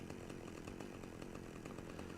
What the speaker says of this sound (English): we're going to want to run and turn our chainsaw off